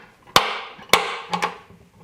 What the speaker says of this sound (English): Center punch the place where the retention screw is going to go.